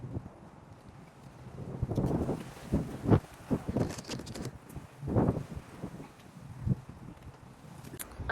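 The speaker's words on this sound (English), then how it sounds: "it's so super windy out here" Strong wind blows outdoors by a clothesline, gusting in uneven rumbling buffets against the microphone with faint rustling in between.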